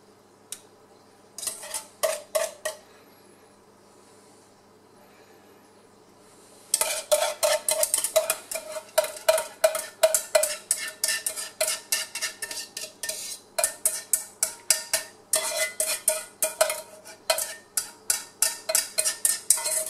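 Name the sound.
stirring lemon tart filling in a pan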